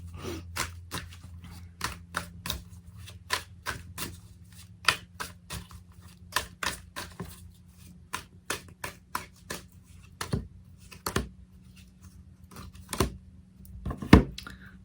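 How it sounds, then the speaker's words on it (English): Tarot cards being shuffled, drawn and laid down, a long run of crisp close slaps and flicks at an uneven rhythm over a faint steady hum, with no talking. "So let's pull some cards from the universe for you."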